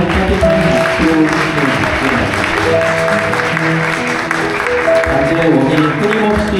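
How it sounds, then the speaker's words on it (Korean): Wedding guests applaud during a ring exchange at a ceremony in a chapel hall, a steady, dense wash of clapping that carries through the whole stretch at a loud, even level. "내빈 여러분 다시 한번 따뜻한 박수로"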